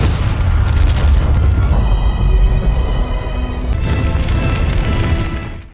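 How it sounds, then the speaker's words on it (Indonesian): A loud, sustained boom from a car packed with explosives blowing up in an action film, with a rumbling roar that persists and slowly fades over several seconds. "karena ledakan tersebut"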